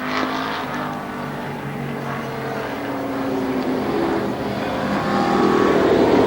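Race cars roar down the front straightaway of a Memorial Day speedway race, a steady, loud engine drone that swells slightly as the pack approaches, with crowd noise mixed underneath.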